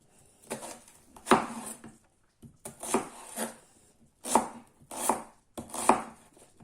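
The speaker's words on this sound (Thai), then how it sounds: "ก็จะหั่นเป็นลูกเต๋า" A knife dices onion into small cubes on a cutting board while pizza toppings are prepared, giving bursts of quick, crisp chopping strokes in several close, loud runs separated by short pauses.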